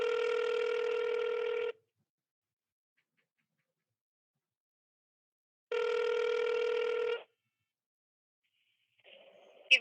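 A telephone call rings out through a handset: two long, loud electronic ringback tones separated by silence, then a faint click and brief tone as the line connects to voicemail.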